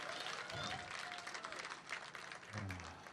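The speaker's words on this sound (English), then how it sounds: "Let's give Mark a big round of applause for his work" A faint round of applause from a small audience at a civic event, soft and distant, with voices mixed in and a low thump near the end.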